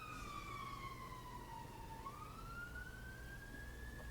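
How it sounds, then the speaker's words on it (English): An emergency vehicle siren wails along a busy road outside, its tone sweeping down and then rising again, steady and fairly prominent over low traffic rumble, with no one talking. "There's always going to be sirens."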